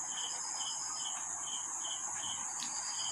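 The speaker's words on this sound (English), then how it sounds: "the small insect grasshopper" A small grasshopper chirps in repeated short, evenly spaced pulses over a steady high insect hiss, close and fairly quiet, with no other sounds.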